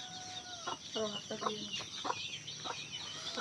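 Chickens cluck close by in a short series of soft, uneven calls over a steady hiss of background noise.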